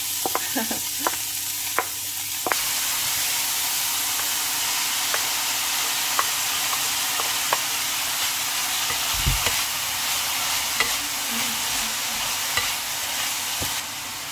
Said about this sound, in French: Ensuite, je verse échalotes.